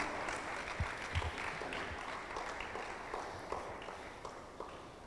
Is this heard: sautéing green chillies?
no